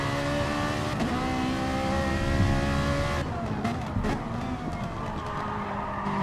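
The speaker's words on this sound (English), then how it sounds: "Listen to that beautiful flat plane V8 sing" A Ferrari racing car with a flat-plane V8 in a sim racing game screams at high revs, its harmonic engine note holding steady, then shifting and dropping as it brakes, with brief tyre scrubbing, loud and close.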